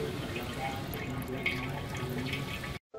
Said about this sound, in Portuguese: Muito tempo depois, continua escorrendo o óleo ainda.